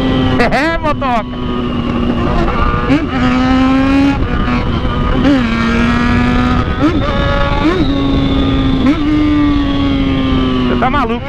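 A Yamaha XJ6 motorcycle engine revs and drones loudly while riding, with repeated rising and falling pitch as it shifts through gears, heard up close amid wind noise.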